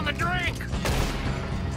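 A clash of many shooters in Red Dead Redemption 2, with overlapping gunshots and booms in a dense firefight. A voice talks over the shooting.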